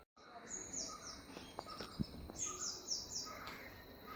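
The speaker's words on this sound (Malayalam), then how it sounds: "പക്ഷികളുടെ ബഹളവും പക്ഷികളും." Many birds call in a home garden plot in the morning: a quiet, steady stream of high, repeated chirps and tweets scattered through the scene, with a few soft clicks and rustles underneath.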